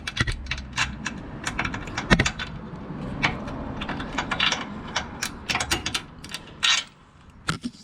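A ratchet with a deep socket tightens a bolt on a 2022 Ford Bronco's aftermarket front bumper, rapid clicking bursts in uneven runs with short pauses, close by.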